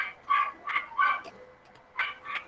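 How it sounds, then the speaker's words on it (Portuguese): A dog barking repeatedly nearby, several sharp barks in quick bursts with brief pauses between them, no talk over it. "E esse cachorro aqui que não para de latir."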